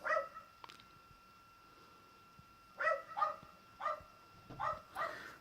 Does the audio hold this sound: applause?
no